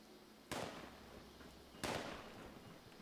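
Distant gunshots in Fallout 76, two sharp cracks spaced over a second apart with a third starting at the end, each trailing a brief echo over a faint background.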